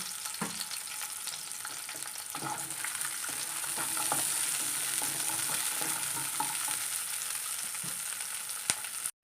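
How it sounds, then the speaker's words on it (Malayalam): Small onions frying and being stirred in a pan, a steady close sizzle with scraping stir strokes throughout and a sharp knock near the end, no voices. "നമുക്കിനി കൊച്ചുള്ളി ഇട്ട് കൊടുക്കാം."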